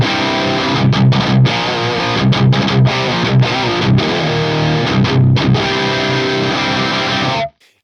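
Electric guitar through a FAS AX8 5153 amp model dialed for tight modern metal distortion, with chunky palm-muted chugs and short stabbing chords separated by brief gaps, loud and close, then cutting off at the end.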